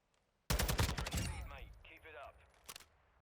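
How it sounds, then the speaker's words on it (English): TAQ 56 rifle fired in a video game at a 50-meter target, aiming center mass: a loud, rapid burst of closely spaced shots with a ringing tail, then one more shot near the end. "so now we're going to try for shooting center mass"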